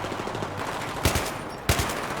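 Battlefield 3 gunfire, two sharp gunshots about half a second apart over a dense rumbling game soundscape, moderately loud and near.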